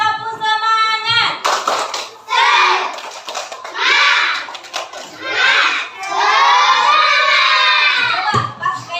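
Third-grade pupils in a classroom perform a clapping cheer, loud rounds of rhythmic claps mixed with energetic shouting and chanting, close and lively, separated by short pauses.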